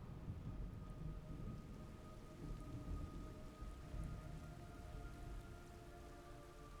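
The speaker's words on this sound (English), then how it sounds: "It's raining blood." Rain in the video game Snake Eater, a faint, steady downpour with a low rumbling undertone and a few sustained tonal hums, continuous with no voices.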